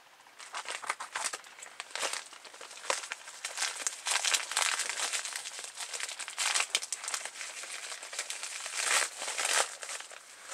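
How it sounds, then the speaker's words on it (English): A squishy toy package being cut open, with close crinkling and rustling of plastic wrapping in irregular bursts, fairly quiet, with no talk. "I'm going to cut this open."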